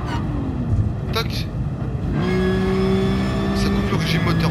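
A race car engine in the GT Sport racing game, revving with sharp cutouts before settling into a sustained high tonal drone, loud and close.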